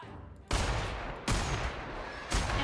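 Video game gunfire in The Outer Worlds comes as three loud, close bursts of broadband firing, each sustained and then trailing off, with no talking.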